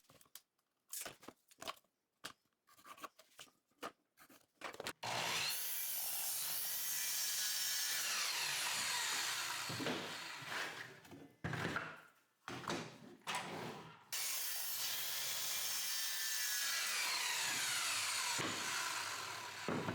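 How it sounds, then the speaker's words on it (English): Orbital sander smoothing the surfaces and edges of wooden tops, starting after a few sharp handling knocks and then droning loudly and steadily with brief stops and restarts as it is moved across the wood. "I'm using my orbital sander for now. Make sure all surfaces and edges are smooth."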